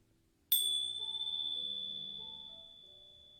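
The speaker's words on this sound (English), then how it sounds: "your object will be these Tingshas, and I will ring them for you." Tingsha cymbals are struck once, giving a bright, piercing metallic ring that sustains and slowly fades over a few seconds, close and alone.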